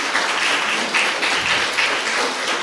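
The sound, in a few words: audience applause for debate participants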